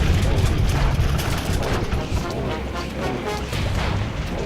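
Dense, sustained gunfire and booming blasts from the Sam & Max adventure game, steady and loud for the whole stretch with no talk over it.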